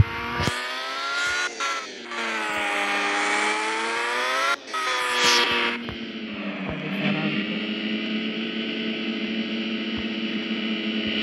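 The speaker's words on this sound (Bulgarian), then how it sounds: "се търкат гуми" A car's tires scrub and squeal while its engine revs hard in sustained, loud harmonic waves, breaking off briefly before the drawn-out screech and engine drone carry on alone.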